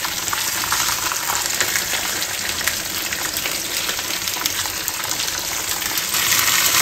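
Spare ribs sauté in a pan with garlic and onion, giving a loud, steady, close sizzle and frying hiss that runs the whole time.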